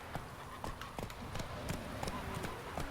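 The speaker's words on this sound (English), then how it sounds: "Where is Vesemir's horse?" Hooves of a horse in the Witcher 3 video game clip-clop in a steady galloping rhythm, close and fairly quiet, with a game voice speaking over the hoofbeats.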